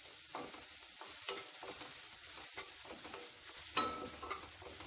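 Spring onion whites sautéing in a pan for hot and sour chicken soup, with a steady sizzle and repeated scraping stirs of a spoon across the pan, with a sharper clack near the end.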